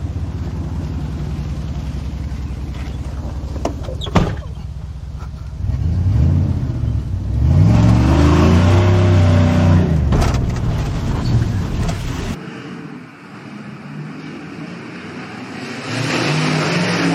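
A 1999 Dodge RAM 1500 pickup truck with a bad frame rolls into a shop, its engine rumbling and revving up loudly midway before settling into a quieter idle in the enclosed space.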